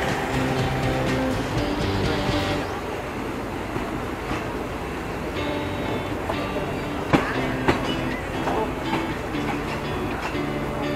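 Train 170 rolls into Bangkok's Hua Lamphong station, its carriages giving a continuous loud rumble with rail clatter and a few sharp clanks. A voice faintly joins in beneath the noise.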